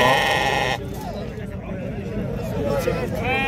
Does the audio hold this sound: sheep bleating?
yes